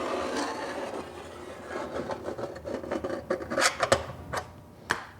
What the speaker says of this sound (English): So I'm going to make one firm scribed line.